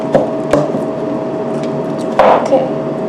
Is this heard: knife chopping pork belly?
yes